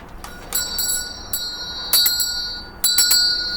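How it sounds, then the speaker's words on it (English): A small toy unicorn bell rings in three separate bright jingling bursts with a sustained shimmering tone, close and clear over a quiet background. "a unicorn bell"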